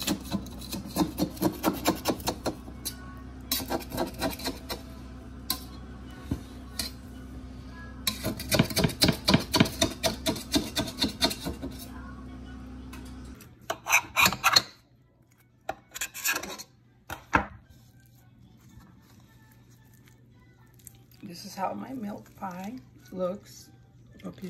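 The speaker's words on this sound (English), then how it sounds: "If the sides are got stuck, just scrape them off and then you flip it." A utensil scrapes the stuck sides of a golden milk-and-egg phyllo pie in its pan in quick rhythmic bursts of rasping strokes, then scattered knocks and lighter scrapes over a quieter stretch.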